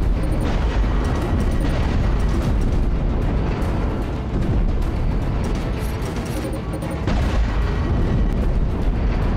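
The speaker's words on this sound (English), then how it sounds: "I'm shooting all these little mines out of space." Mines exploding in space as they are shot in Dead Space 3, a dense, continuous barrage of heavy booms and rumbling blasts that stays loud throughout with no voices.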